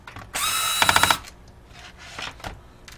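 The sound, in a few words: removing laptop video card mounting screws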